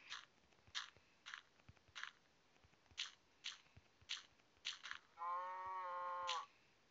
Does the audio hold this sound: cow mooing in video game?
yes